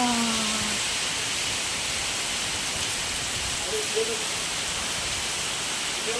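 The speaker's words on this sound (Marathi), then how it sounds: "संध्याकाळच्या वेळेस मुसळधार पाऊस बघा चालू झाला आहे" Heavy evening rain pours in a continuous roar of drops, a loud even wash of noise broken only by a brief low tone at the start and a faint thin sound near the middle.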